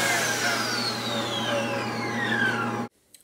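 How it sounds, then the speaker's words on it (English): A table saw rips long pieces of white oak or black limba pushed through with a miter gauge, a loud sustained whine with slowly falling tones that cuts off sharply near the end, followed by faint rattles. "I'm going to cut the long pieces"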